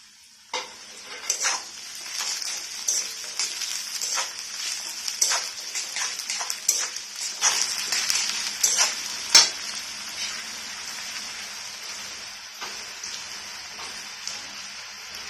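Carrots and capsicum stir-fried in a pan for vegetable fried rice, a steady close sizzle with scraping stirs and occasional utensil clinks, no voices.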